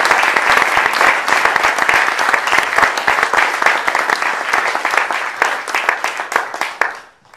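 An audience at a Mycological Society general meeting applauds to welcome a speaker, with steady, dense clapping that fades out at the end.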